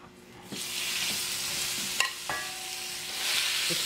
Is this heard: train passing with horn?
no